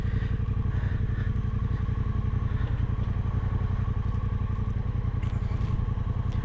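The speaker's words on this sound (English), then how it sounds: "Oh, it's got a big engine. It's a 1200cc, so it's quite a heavy bike" A heavy, low-slung 1200cc motorcycle engine runs close by with a loud, steady, rapidly pulsing rumble and a faint mechanical clatter, alone and without pause.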